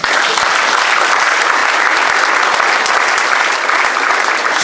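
Sustained applause from a public audience at a French community meeting, a dense steady wash of clapping that stays loud and even from start to finish with no voices over it.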